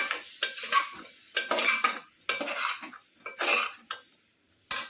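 A spoon stirring brinjal and potato curry in a pot, giving six or seven separate scraping, clattering strokes close by with short pauses between them and no voices.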